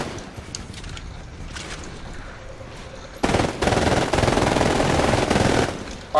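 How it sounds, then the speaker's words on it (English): Submachine gun fire in the video game Titanfall: faint scattered sounds give way to a loud sustained burst of rapid automatic shots lasting over two seconds, followed by another short burst at the end. "the submachine gun is obviously very short-range weaponry"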